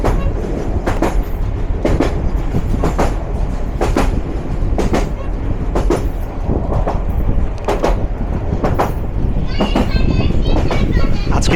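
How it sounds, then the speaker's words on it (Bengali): Egarosindhur Provati Express 737 running from Dhaka toward Kishoreganj: a steady, loud rumble broken by sharp, evenly spaced clickety-clack wheel beats over rail joints, with faint background voices. "চলুন আমরা এবার ছুটে চলি কিশোরগঞ্জ জেলা সদর রেলওয়ে স্টেশনের উদ্দেশ্যে"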